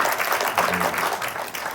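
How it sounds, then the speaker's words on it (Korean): Steady applause from a church congregation at a Korean Sunday worship service, a full even roar of many hands clapping that carries on unbroken throughout without speech on top. "한 자리에 모이게 하신 하나님께 영광의 박수 올려드리겠습니다"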